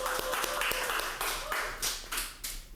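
A studio audience claps for Aris, the Indonesian Idol alumnus, with a handful of sharp, scattered claps over a dense wash of hands, close and fairly loud.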